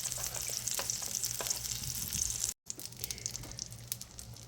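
Burger patties brown in a frying pan with a dense, continuous sizzle and scattered crackles, broken by a brief silent gap before the frying resumes at the same level.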